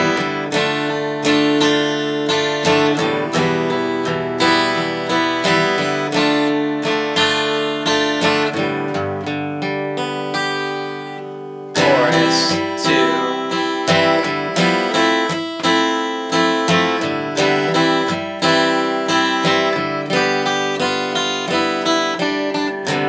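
An acoustic guitar plays the second pre-chorus of a song, with strummed and arpeggiated chords ringing loud and close, a brief drop midway, and no voice.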